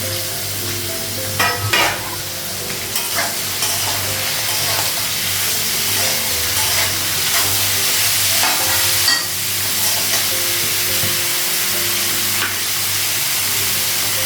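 Pointed gourd and potato pieces fry in a pan with a loud, steady sizzle and hiss, punctuated by several scraping stirs early on and a few more later, close up with no talking.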